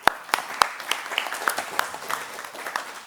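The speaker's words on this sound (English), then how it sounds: "let's give a round of applause" A conference audience applauds a speaker at a scientific session: sparse, uneven claps from a small group, with a few sharper strokes standing out over a thin patter that fades toward the end.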